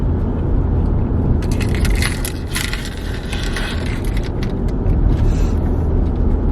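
Small ornaments hanging from a car's rearview mirror jangle and tinkle lightly while driving, a faint metallic rattle coming in bursts over a steady low road and engine rumble.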